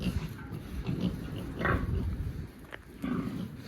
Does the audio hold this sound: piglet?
yes